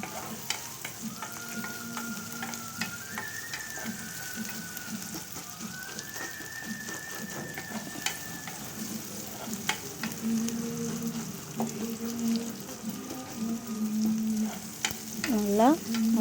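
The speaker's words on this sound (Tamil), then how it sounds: "கட் பண்ணி அந்த வெங்காயத்தையும் சேர்த்து நல்லா வதக்கிக்கலாம்" Sliced onions sauté and sizzle in oil for a Tamil broad bean curry, a steady close frying hiss broken by scraping stirs and light clinks of a spatula, with no voices.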